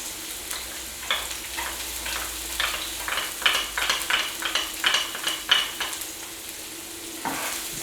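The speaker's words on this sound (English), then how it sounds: "We're going to saute it until it's nice and brown" Onion and garlic sautéing in a pan, a low steady sizzle broken by a run of stirring scrapes and clatters from a utensil, close and clear with no talking.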